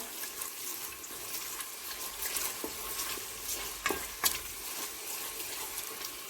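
Tomato paste frying in a pan, a continuous close sizzle with a few brief stirring knocks near the middle.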